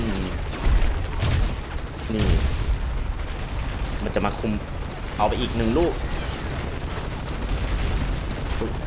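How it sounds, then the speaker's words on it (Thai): Machine gun fire in Call of Duty Modern Warfare 3 from a remote-controlled gun vehicle, dense continuous gunfire with booms underneath while someone talks excitedly over it. "มันยิงปืนกลใส่เรา"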